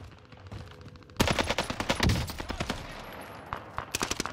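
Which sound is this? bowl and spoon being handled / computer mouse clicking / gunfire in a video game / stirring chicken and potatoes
gunfire in a video game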